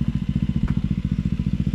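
A motorcycle of roughly 300–400cc on the Agas-Agas Bridge in Leyte, its engine a close, steady pulsing chug with rapid even beats throughout.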